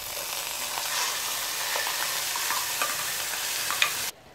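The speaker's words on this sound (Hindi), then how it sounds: "अब हम इसमें डालेंगे सारे मसाले का पेस्ट।" Masala paste spitting and sizzling in hot oil for roasted chicken, a dense close crackle with faint stirring, steady for about four seconds before cutting off abruptly.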